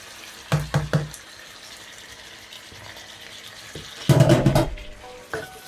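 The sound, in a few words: tomatoes added to meat frying in oil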